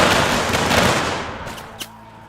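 A volley of muskets fired together by soldiers in a Mount & Blade Warband Civil War mod battle: a loud, dense blast at the start that fades over about two seconds, with a faint crack near the end.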